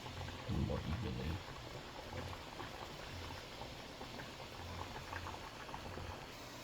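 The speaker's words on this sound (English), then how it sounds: "we're still waiting for our simmer here to get a little more violent" Water simmers in a pot on the stove for rice and beans, a faint, steady bubbling hiss that runs the whole time, with a brief low thump near the start.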